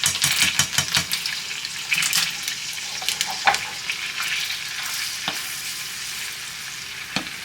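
Four garlic cloves sautéing in a pan for homemade alfredo sauce, a crackling sizzle with quick clinks of a utensil early on and a few sharp taps later, close and moderately loud, with no talking.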